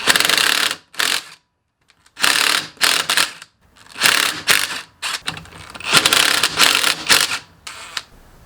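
Ratchet wrench working the valve assembly bolts on a GY6 scooter engine being stripped for a 171cc big bore kit, loud close bursts of rapid clicking separated by short silences.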